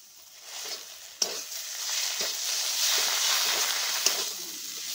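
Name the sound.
frying and stirring mustard and poppy seed paste with coconut paste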